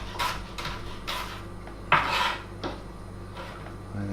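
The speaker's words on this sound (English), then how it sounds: "So again, cutting down, being careful of our fingers. The thumb pushes the onion through" A knife chopping through an onion on a board for a salad, several distinct cutting knocks spaced unevenly, close and fairly quiet over a low steady hum.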